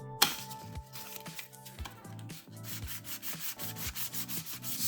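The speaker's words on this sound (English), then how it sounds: "these work pretty good with sandpaper. So I'm going to hit this with this 400" Hand sanding of a Jackson Pro DK2 guitar with 400-grit sandpaper, quick rhythmic back-and-forth rubbing strokes up close, fairly quiet and continuous with a brief pause partway through.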